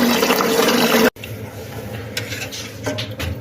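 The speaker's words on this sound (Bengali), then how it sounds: "এই কষটা আমরা দুই তিনবার করে ধুয়ে ধুয়ে ফেলে দিব" Taro is rinsed under running water, with a steady loud splash of pouring liquid that stops abruptly, followed by quieter trickling and faint clinks of a pot.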